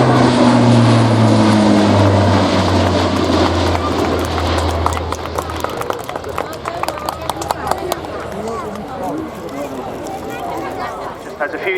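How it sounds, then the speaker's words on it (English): A C-130 Hercules propeller transport plane at an RAF Cosford airshow drones loudly with a deep throbbing hum that fades into rushing noise as it passes, while a commentator talks over it. "C130 Hercules."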